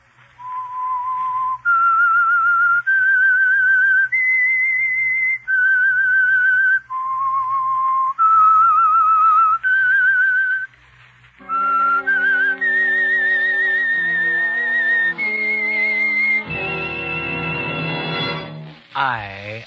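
The whistled theme of the radio show The Whistler plays as a clear, close solo melody of sustained notes, then an orchestra takes over with rising brassy chords building to a loud finish.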